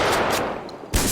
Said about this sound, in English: Let's do the shotgun here.